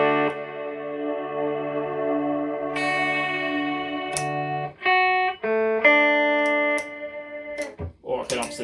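Electric guitar on a pedalboard switched to reverb: a held chord that rings on, followed by a few separate notes and chords, each with a long, washy decay.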